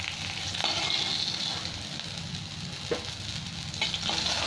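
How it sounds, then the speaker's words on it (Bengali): Black cumin (nigella seeds) dropped into hot oil left from frying fish for a Bengali fish curry, giving a steady, close sizzle with occasional small pops and crackles. "এবার আমি তেলের মধ্যে কালো জিরে দিয়ে দেবো।"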